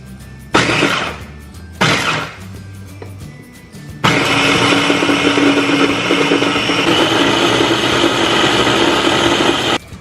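Kitchen blender blending pesto as olive oil is added, starting with two short whirring bursts, then running loud and continuous for about six seconds before cutting off.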